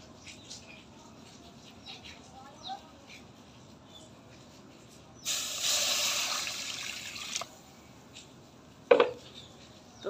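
Fried loitta dried fish rinsed in water, a burst of broadband splashing and swishing lasting about two seconds, then a brief sharp clatter, over a quiet room with faint background noise.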